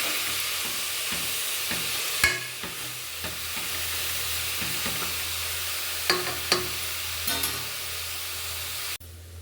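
Grated beetroot sizzles steadily in hot oil in a pan while a spoon stirs it, with soft scraping strokes and occasional sharper clinks against the pan over a constant frying hiss.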